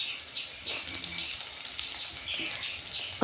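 Garlic frying in coconut oil gives off a soft, continuous sizzle and crackle close by, holding steady with light pops throughout.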